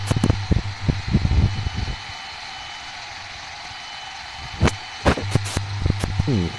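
A Shorts aircraft engine hums steadily in Microsoft Flight Simulator 2020, a constant mid-level drone with a low tonal hum, broken by several sharp clicks and knocks near the start and end.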